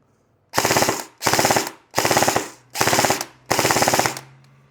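An airsoft gun fitted with a loudener fires full auto in five short, sharp bursts of rapid cracks, each separated by a brief pause, close and loud with no talk.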